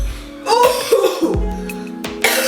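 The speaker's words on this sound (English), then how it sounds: "You can't cough like that during these times." A person coughs hard several times in quick succession, loud and close, with a throat-clearing quality and no talking over it.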